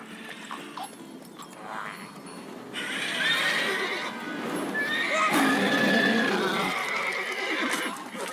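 A horse named Roach in The Witcher 3 video game gives a clear, loud whinny, with a few hoof clops and faint game ambience around it.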